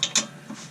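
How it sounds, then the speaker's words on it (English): Torque wrench ratcheting while tightening a rear torsion bar bolt on a Hyundai Veloster, two quick close clicks followed by a softer third. "so now let's torque it down pretty good."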